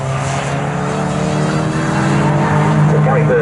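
The number 48 race car heads out onto the circuit during trackday championship qualifying, its engine a loud, steady drone that rises slightly near the end, with commentary running over it.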